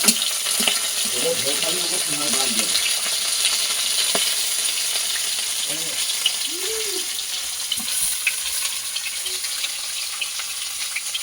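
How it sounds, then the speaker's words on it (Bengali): Katla fish fries in hot oil in a wok, a loud close sizzle with crackles and spatters throughout, broken by a few faint clinks of a utensil and some brief faint talk. "মাছগুলো এবার কড়াইতে দিয়ে ভেজে নেবো কড়ার তেল কিন্তু গরম হয়ে গেছে"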